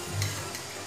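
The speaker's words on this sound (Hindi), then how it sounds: "इसमें हम मैरिनेट किया हुआ चिकन ऐड कर देंगे।" Marinated chicken frying in a little oil in a kadhai, a soft steady sizzle with faint stirring, close and fairly quiet, no voices.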